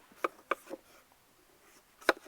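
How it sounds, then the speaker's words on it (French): A knife cuts thick slices from a crisp, slightly sweet vegetable in a kitchen on Île des Pins, a few sharp separate crunchy chops close by, with quiet pauses between them. "Là, je vais tailler des tranches."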